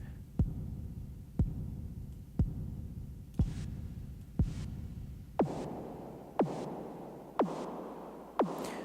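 A drum hit repeats about once per second through a simple Autodafe reverb unit, each sharp thump trailing a short reverb tail; partway through the drum sound changes to a brighter, fuller tone with longer decay.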